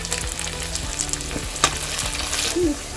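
Egg rice sizzling and frying in a pan as fresh coriander is added, close and steady crackling with light stirring scrapes and a brief clink, no talk.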